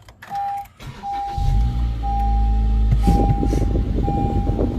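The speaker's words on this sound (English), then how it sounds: "It's also my first car with push button start. And while we're here, I'm going to go ahead and start it for you." A 2014 Honda Civic Si is started with its push button: a few short electronic chimes sound, then the engine cranks and catches into a loud, steady idle rumble while the chimes keep beeping at intervals.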